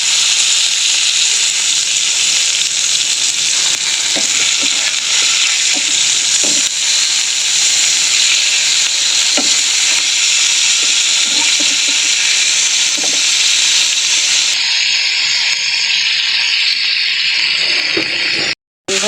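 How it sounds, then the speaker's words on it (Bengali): Fish fries in a pan after being flipped, a loud continuous sizzle with faint scrapes and taps throughout, close by, with no talk, ending in a brief cutoff. "মাছগুলো এবার উল্টিয়ে দেবো।"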